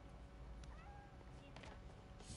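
Cat meowing in the video game Marvel's Spider-Man: Miles Morales, a few short mews heard close up over a dense, steady bed of game ambience and rumble.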